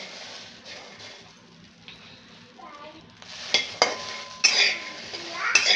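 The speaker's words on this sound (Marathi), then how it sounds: "इथे आपली कढई गरम झालेली आहे हा वाटाणा थोडासा आपल्याला गरम करून घ्यायचा आहे" Green peas warming in a heated kadai give a soft, close sizzle. A utensil scrapes and clanks against the pan in the second half. Someone talks throughout, and faint children's voices sit in the background.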